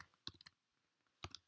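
Computer keyboard keys clicking in two short bursts while text is typed in Maple text mode, quiet and close, with a pause between groups of keystrokes.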